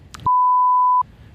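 A single censor beep, a pure steady tone lasting under a second, set between short bits of quiet talk.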